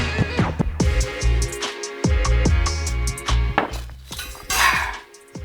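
A teaspoon clinks repeatedly against a glass at a St Patrick's Day gathering, giving several sharp, close ringing taps in an uneven rhythm with brief gaps between them.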